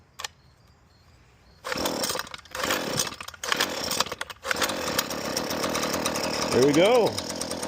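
A Husqvarna 330LK string trimmer is pull-started and its small two-stroke engine catches, running loud and close with a rough, revving buzz. Brief pauses come first, and a short spoken remark follows near the end.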